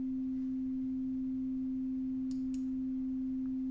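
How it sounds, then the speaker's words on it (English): A steady synthesizer sine wave from a second oscillator, pitched one octave above C at roughly 262 Hz, holds as a constant pure tone throughout, with a couple of faint brief clicks partway through. "Now let's take oscillator 2, generate another sine wave,"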